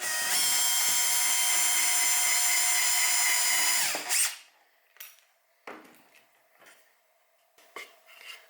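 A power drill chamfering a screw hole runs steadily for about four seconds and then winds down, followed by a few scattered clicks and light knocks of handling.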